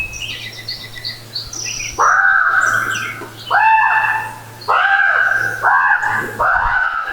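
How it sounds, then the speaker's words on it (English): Ravens call and squawk at night near an old Minnesota cabin, a few high chirps at first giving way to a series of loud, harsh squawks repeating close by, over a faint steady hum. "suddenly the ravens get all riled up"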